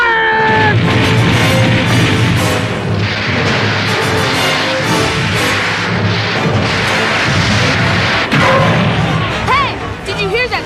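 Starboard cannons of an anime ship fire in a heavy, sustained barrage, booming blasts layered over loud rumbling noise, with shouting voices and a sharp explosive burst near the end.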